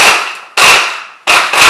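A blender pulses mixed Chinese vegetables in three quick, loud, close bursts, each a sharp whirring blast that fades before the next, with no talking.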